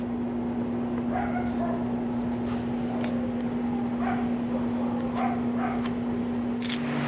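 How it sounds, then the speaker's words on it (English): Distant neighbours' dog barks and yips come in scattered bursts over a constant humming drone of a fan running nearby, indoors in Los Angeles. "All of us sleep with a fan to help drown the barking."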